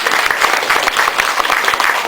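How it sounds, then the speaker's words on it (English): Steady, dense applause from a seated audience at the close of a talk on mentally ill offenders, even and sustained with no voices above it. "please, another round of applause"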